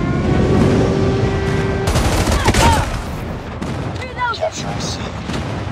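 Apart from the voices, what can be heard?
friendly airstrike explosions in the video game Call of Duty Mobile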